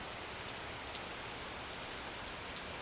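Rain falling steadily on a grape vineyard during pruning, a soft, even patter and hiss of drops that holds constant and fairly quiet throughout, with no voices.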